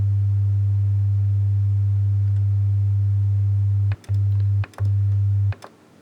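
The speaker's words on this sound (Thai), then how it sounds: "ได้ยินเสียง ต่ำต่ำอันนี้คือหนึ่งร้อยเฮิร์ตนะครับ" A steady, loud 100 Hz sine test tone drones continuously, then cuts out briefly twice, with a few soft clicks, before stopping abruptly.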